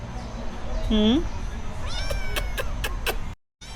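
A small cat meows a few times, high and rising, close by amid a busy background, with brief sharp chirps following.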